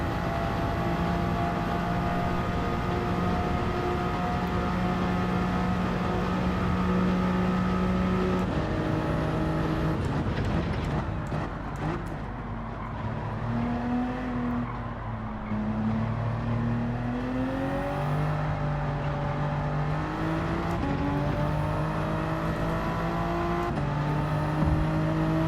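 In Gran Turismo 7, a race car engine drones loudly and continuously, its revs held high and climbing and dropping with gear shifts through a race, and no voices are heard.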